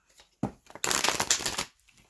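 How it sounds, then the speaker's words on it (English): A deck of tarot cards is shuffled close up: a short riffle, then a longer dense flurry of flicking cards before it stops, with no talk. "One more shuffle here for Leo."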